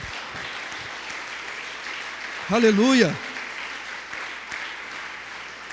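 A congregation applauds in a steady, sustained wash of clapping, while a single voice calls out briefly in the middle over the applause.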